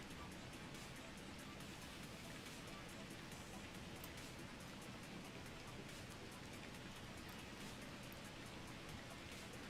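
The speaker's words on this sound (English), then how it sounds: "It is very foggy and very rainy." Steady rain pours down in the space-building game Space Engineers on a foggy world, a dense, even hiss that stays loud and unbroken from start to finish with no talk over it.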